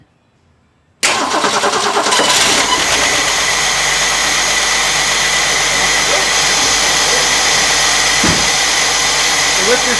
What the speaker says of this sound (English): All right, let's see if it starts.